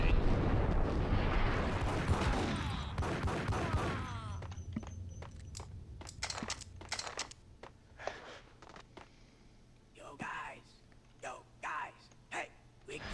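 Gunfire from a Desert Eagle pistol in the 2001 Max Payne game: a dense, roaring burst of shots for about four seconds, then scattered sharp single cracks with quieter gaps between them.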